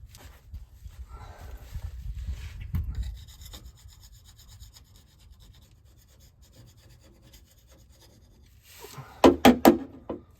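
Scraping old gasket goop off a Ford F150 differential cover with a 9.75 axle: low rough grinding scrapes at first, then a quiet stretch, ending in a few sharp, loud metallic scrape strokes up close, with no talking.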